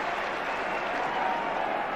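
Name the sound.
football crowd applause on the Kop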